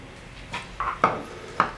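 A utensil knocks and scrapes in a bowl while white chocolate panna cotta is mixed with neutral gelatin, a few distinct close clinks spaced irregularly over a quiet background.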